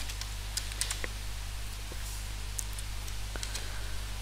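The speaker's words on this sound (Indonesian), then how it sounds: "Di sini saya ketik apa itu MySQL" Close, fast typing on a computer keyboard, with sharp irregular key clicks over a constant low hum and no voices.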